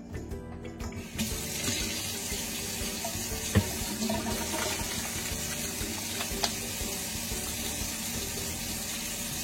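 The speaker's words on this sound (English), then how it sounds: "so I'm going to go wash my hands now" Hands are washed under a running tap, which sends out a steady, close hiss of flowing water from start to finish. A few faint knocks sound against the sink, with no talk.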